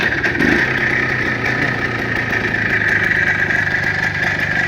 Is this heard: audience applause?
no